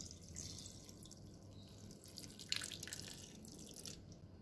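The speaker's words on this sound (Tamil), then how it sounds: "இந்த ஊற வச்ச தண்ணியை நம்ம ஊற்றி அரைச்சிக்கலாம்." Soaking water from rice is poured into a blender holding the rice for batter, giving a soft, steady trickle with light splashing and a slightly louder spill midway, with no talk.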